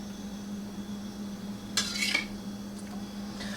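A spoon knocks and scrapes against a metal pot of boiling water while soft sourdough pretzels are flipped, a short clatter over a steady low hum.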